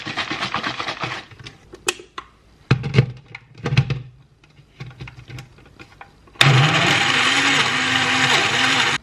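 A countertop blender whirs loudly and steadily as it blends yogurt, protein oats and water, coming on after several seconds of quieter clinks and handling sounds.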